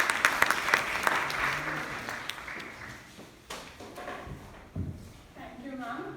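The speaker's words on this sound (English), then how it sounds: "Let's give her a huge round of applause" Applause from a college orientation-day audience for a speaker, starting fairly loud with dense clapping and then thinning into scattered claps, with voices and some talk mixed in.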